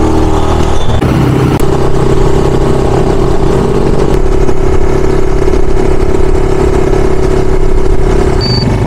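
A motorized tricycle engine runs continuously while riding along a highway, loud and close, with a steady mid-pitched drone and slight shifts in revs throughout.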